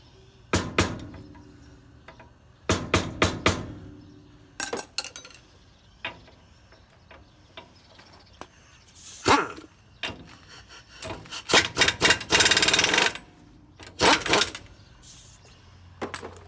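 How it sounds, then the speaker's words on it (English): Metal tools scrape, clink and rasp while the large nut securing a wheel cylinder on a 1956 Pontiac is worked loose, in close, irregular bursts of ratcheting and grinding separated by short pauses. "Just gotta take that nut off"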